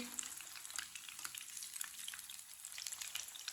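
Potato pakoras fry in hot oil, giving a steady, crackling sizzle with a scatter of sharp pops and spits, close and continuous, with no talking.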